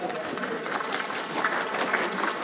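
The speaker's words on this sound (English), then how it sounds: "Honorable Minister, you deserve a hand clap," Members of the Nigerian House of Representatives clap for a minister in the chamber, a sustained, moderately loud patter of many hands with faint murmuring mixed in.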